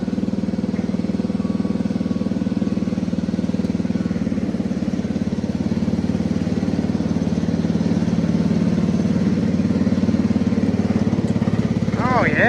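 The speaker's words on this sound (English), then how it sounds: "I just realized I've never test drove this tractor before." Antique John Deere 112 garden tractor engine runs steadily at close range during a first test drive, a continuous mid-pitched rumble throughout with a brief higher whine near the end.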